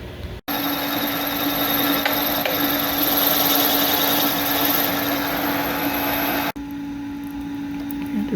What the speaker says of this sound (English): Just going to wind out the cutter a little bit more, take another cut.